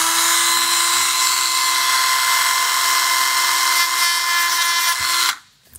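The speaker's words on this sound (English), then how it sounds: "we're going to attach our bit to our Dremel tool and we'll get to working on it" Dremel rotary tool cutting into a gearbox piston, a loud, steady high-pitched whine held close for about five seconds before it abruptly stops, leaving near silence; no voices.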